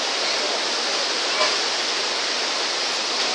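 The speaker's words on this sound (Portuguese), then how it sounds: "Miguel, vem ver a cachoeira, Miguel." The Cachoeira de Tombos waterfall in Minas Gerais roars as a loud, constant broadband rush of falling water, close and unbroken.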